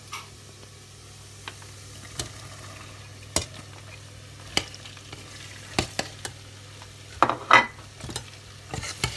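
Fried rice ingredients, carrot and gizzard, are stirred in a pan over a soft steady sizzle, with a utensil scraping and clicking against the pan in irregular sharp taps, close and fairly quiet.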